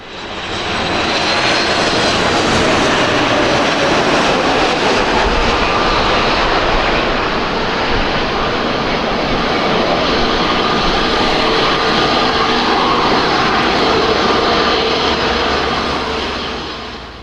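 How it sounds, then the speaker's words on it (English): A Boeing 737 attempting a landing at Madeira Airport goes around. Its jet engines produce a loud, sustained roar that holds strong throughout before easing off at the end. "This Boeing 737 landing at Madeira Airport had to go around."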